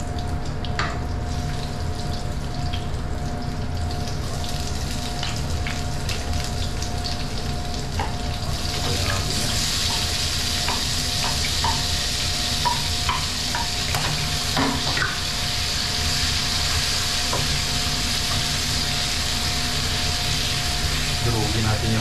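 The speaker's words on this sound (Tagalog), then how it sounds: "Igisa muna." Food sautés in a pan outdoors by a river, a steady sizzle and fry with scraping stirs and clinks of a utensil, over running water in the background.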